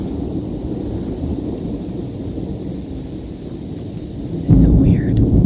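Thunder rumbles during a February thunderstorm over steady rain, a low roll building and then a loud close crack near the end, with a faint voice briefly in the background.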